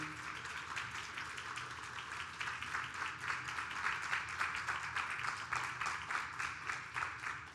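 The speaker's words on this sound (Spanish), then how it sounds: "Fuerte el aplauso nuevamente, por favor." Audience applause at a book presentation event, a dense sustained wash of many hands clapping that grows slightly stronger, steady and moderately distant.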